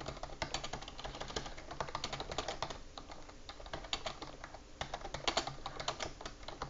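Rapid typing on a computer keyboard during a Type Racer typing race, with dense, uneven clusters of key clicks and clacks continuing steadily, close and clear, without speech.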